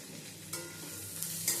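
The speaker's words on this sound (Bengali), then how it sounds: "সমস্ত কিছু দিয়ে আবারও ভালো করে মিশিয়ে নেড়ে চেড়ে নেব" Spices such as ground coriander and cumin stirred in a hot pan of frying oil, a soft steady sizzle with a few scraping stir strokes, close up and with no talk.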